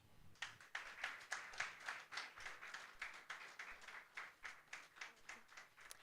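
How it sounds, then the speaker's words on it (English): Faint, distant clapping at a public lecture, a slow, rhythmic beat of roughly two claps per second in unison, quiet throughout with no talk over it. "Please, let's continue clapping for him."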